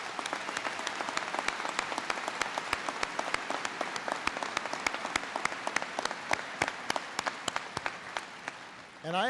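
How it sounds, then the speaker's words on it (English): At a 2017 Lake Area Tech graduation ceremony, the audience gives a round of applause for family members and supporters: many distinct, crisp hand claps ring out over a softer crowd bed before tapering near the end. "let's give them a big round of applause."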